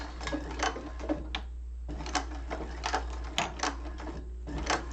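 A sewing machine back stitches a hobo bag, a steady low hum with rhythmic mechanical clicking throughout.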